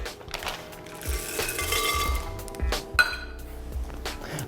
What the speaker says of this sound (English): I'm gonna add the chocolate chips in now